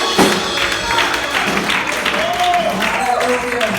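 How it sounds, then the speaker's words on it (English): A church congregation clapping hands during a Sunday afternoon service, loud continuous claps mixed with singing and music, voices raised over the rhythm throughout the short burst. "Come on, clap your hands."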